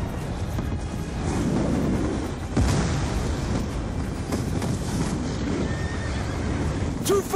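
Horses neigh and hooves clatter in Call of Duty: Black Ops 2, with whinnies over a loud, steady rumble of gunfire, explosions and moving vehicles throughout.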